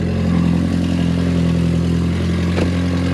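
A Volkswagen Jetta engine idles steadily with a low rumble and a rough, ticking exhaust sputter from an exhaust leak, close and continuous throughout.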